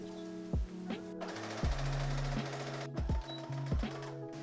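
A home sewing machine stitches shirt side and shoulder seams in several short bursts, steady and close, with pauses between runs and no talk.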